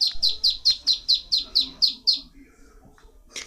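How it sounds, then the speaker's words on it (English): A duckling chirps in a quick, evenly spaced run of about nine loud, close, high peeps, then falls quiet amid faint background rustle. "I heard a chirping sound exactly like this."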